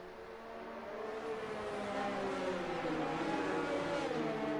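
Formula 1 cars on a formation lap at the Russian Grand Prix, a steady engine drone from several cars that swells slightly and holds, heard alone without talk.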